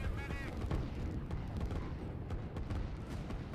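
Artillery pieces fire in the real-time strategy game Line War, giving repeated muffled booms and rumbling over a continuous busy battle bed of moderate, distant-sounding noise.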